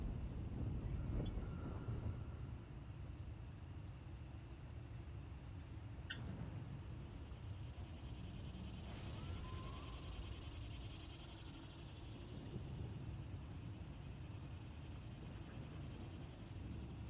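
Thunder and steady rain in the Star Wars: The Old Republic video game, a continuous wash of rainfall with low rumbles of thunder rolling through at a moderate, fairly even level with no talking.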